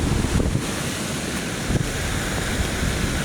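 Storm wind buffets the microphone and sea waves roar steadily during Typhoon Basyang, a loud, continuous rumble with brief stronger gusts and surges.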